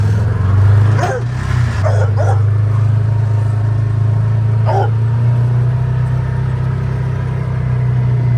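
A puppy gives a few short barks and yips close by, loud over the steady rumble of a Massimo Knight 500 4x4 utility vehicle's running engine.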